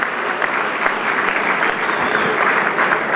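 An audience at a St. Francis College honors event applauds, giving a dense, steady round of clapping that carries on throughout at close range.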